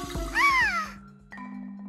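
A child imitates a cat, giving a rising and falling whiny meow with a clear close voice, followed by a short sustained vocal tone; sounds loud and near with no other talk.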